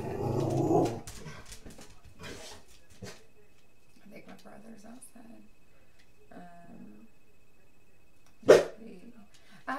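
A dog gives a short bark and growl at the start and another sharp bark later, close by, with someone talking quietly in between.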